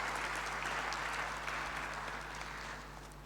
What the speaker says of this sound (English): Please give him a big applause for His Excellency to join us today.